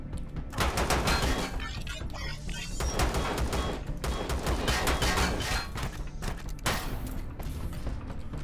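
Rapid gunfire erupts in a co-op space survival game on a planet invasion, with dense bursts of shots and clattering mechanisms that pause briefly and then resume, loud and continuous.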